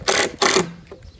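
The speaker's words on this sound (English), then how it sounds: "we're setting the screws, getting it ready, putting it together." Screws being driven into a wooden BMX box jump ramp, two short close bursts of a power driver whirring in quick succession, followed by a fainter brief third spurt.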